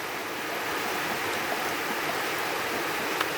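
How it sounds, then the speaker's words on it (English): Heavy rain pours outdoors over a village field, a dense, even hiss that carries on without break at a moderate level, with no voices over it. "It's pouring right now."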